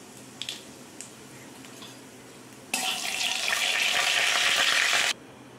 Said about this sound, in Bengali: কালো জিরাটা দিয়ে দেবো তেলেতে।